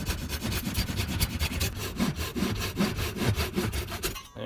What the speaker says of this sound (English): I think I'm going to select this pull saw for the first cut down. Bamboo cuts rather easily.